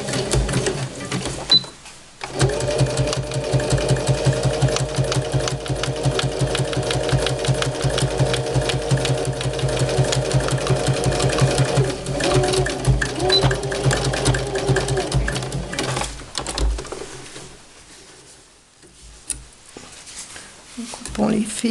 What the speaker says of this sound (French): Maintenant, nous allons régler notre machine sur le point zigzag. Et nous allons donc faire le point zigzag pour surfiler